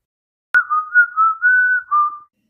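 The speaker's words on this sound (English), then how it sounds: "He can whistle very well." A person whistles a clear, steady tune of several connected notes lasting under two seconds, loud and close with no other sound around it.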